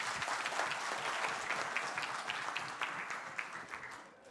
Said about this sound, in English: A round of applause for the bosun.